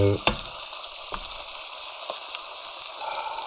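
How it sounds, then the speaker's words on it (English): Ingredients for homemade baked beans frying in a pan, a steady soft crackling sizzle with a few sharper pops near the start, continuing evenly throughout. "we let it sweat a bit, fry a bit, not much, just a bit"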